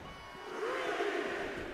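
A wrestling arena crowd in WWE 2K24 roars for Trish Stratus, a brief, steady swell of cheering voices that rises slightly midway and stays loud.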